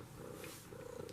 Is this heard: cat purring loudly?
yes